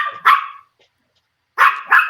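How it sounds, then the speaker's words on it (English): A dog gives three sharp, loud barks close by: one bark, a pause of about a second, then two quick barks in a row, with no talking. "And that's a dog."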